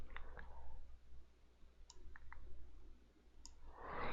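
A few soft, quick computer mouse clicks while closing a chart, faint and close over a quiet hum.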